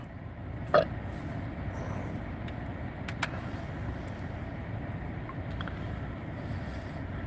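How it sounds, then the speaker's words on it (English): Strong wind blows steadily outdoors on a cold, snowy, messy day, a continuous low rushing roar buffeting the microphone, with a few faint brief knocks and clicks over it. "the wind is really going"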